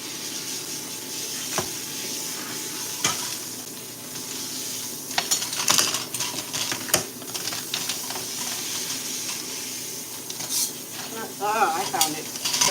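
A hair whisk stirs hair color in a bowl at a salon, giving soft wet scraping and swishing strokes with scattered clicks and taps over a background hiss, and no one speaks.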